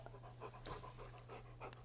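A pet dog pants softly and rapidly indoors, quick rhythmic breathy puffs close by, fairly quiet, with a low steady hum underneath and no talking.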